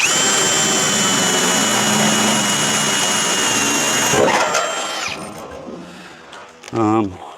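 A power drill bores through the sheet-metal floor of a classic car, a steady loud whine that holds for about four seconds, then winds down and stops, followed by a brief clunk.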